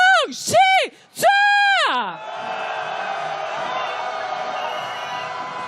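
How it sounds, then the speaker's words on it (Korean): A street protest crowd shouts for impeachment at a candlelight march toward the National Assembly: drawn-out, rising and falling collective yells, followed by a steady roar of crowd noise. "국회를 향한 탄핵의 함성 시작!"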